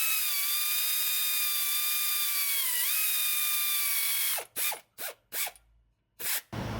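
Transmission bolts on a Ford F250 are tightened: a thin whining tone drifts for a few seconds, then a series of short, close ratchet bursts clicks in uneven spurts with brief pauses between them.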